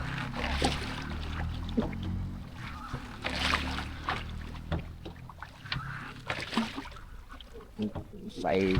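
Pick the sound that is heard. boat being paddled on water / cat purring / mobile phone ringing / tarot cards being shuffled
boat being paddled on water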